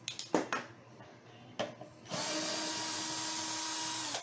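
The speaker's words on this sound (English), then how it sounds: "Gonna have to fill and re-drill" A power drill whirs steadily for about two seconds while re-drilling a guitar neck for a Van Halen Frankenstrat build, following a few sharp knocks and handling clicks.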